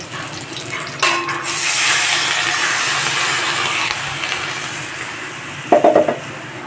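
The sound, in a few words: green mangoes being boiled in water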